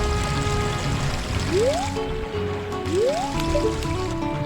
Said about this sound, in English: You have to always check behind the waterfalls.